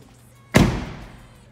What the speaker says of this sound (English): you can tell when you close this door that it's hollow